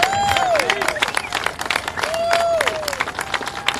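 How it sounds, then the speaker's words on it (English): A rally crowd in Washington DC applauds steadily and loudly, with scattered whistles and a few cheers rising over the clapping. "let's have a round of applause for those who went to prison"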